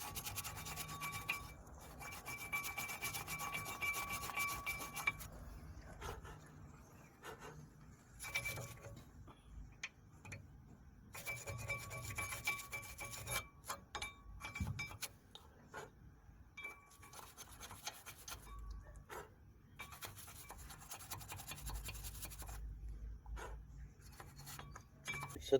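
A wire brush scrubs dust and debris off a seized front brake caliper on a Toyota Yaris, a dry rasping rub that comes in steady bursts with short pauses between them, close and fairly quiet.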